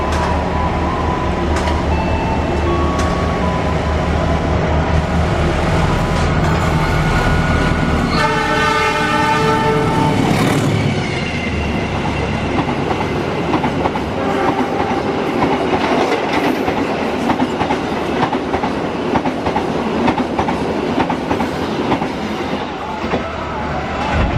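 The Argo Lawu passenger train runs through a station on track 3, a loud, continuous rumble of wheels and carriages with a sustained multi-tone horn blast partway through and rhythmic clatter over the rails.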